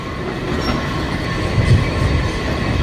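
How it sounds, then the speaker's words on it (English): A metro train arrives at Gallery Place-Chinatown station, a loud, steady rumble of rail cars with wheel noise and rising clatter toward the end, filling the platform without any talking. "There's one train coming."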